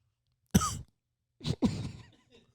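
One man coughs sharply once, then after a pause gives a rough double cough trailing into a raspy throat clear, loud and close with silence around it.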